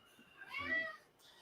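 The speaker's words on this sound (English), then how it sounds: "That was a cat?" A cat gives a single drawn-out meow, rising and then falling, of moderate loudness and slightly distant, with no speech over it.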